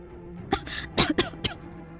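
A woman coughs in several short, harsh bursts over about a second, close and fairly loud against a quiet background.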